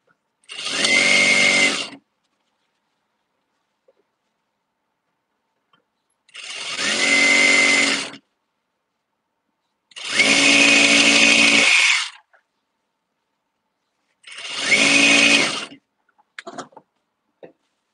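A sewing machine stitches tutus in four separate bursts of fast, even whirring, each about two seconds long with quiet gaps between, loud and close, ending in a few faint clicks.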